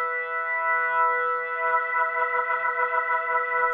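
Nord organ with three drawbars out, played through a Leslie 122 rotary speaker simulation at the close setting: a sustained chord with a swirling, pulsing tremolo that quickens toward the end, alone with no talk.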